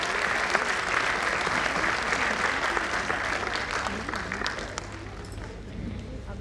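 An indoor audience gives sustained, dense applause after a stage performance, a steady wash of clapping that softens slightly toward the end.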